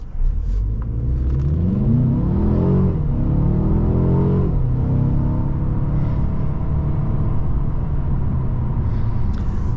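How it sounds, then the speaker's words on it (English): A 2023 Mercedes CLA 250 with a 7-speed DCT accelerates hard from a standstill, its engine note climbing loudly through several quick gear changes, each shift dropping the pitch before it rises again. "just floor it from a dead stop and see how this 7-speed automatic transmission, the 7-speed DCT transmission will do"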